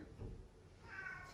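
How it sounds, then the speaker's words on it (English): A pet cat lets out a single faint, soft meow in a quiet room, brief and somewhat distant, with no other sounds around it. "You can hear my cat meowing."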